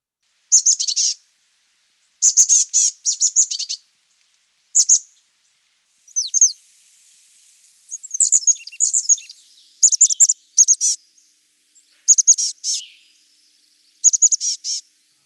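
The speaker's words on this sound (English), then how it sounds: "So chestnut-back chickadee, just about the cutest little thing out there." Several chestnut-backed chickadees give bright, high chirping calls in short clustered bursts, repeated irregularly with brief quiet gaps, fairly close and clear with no talking.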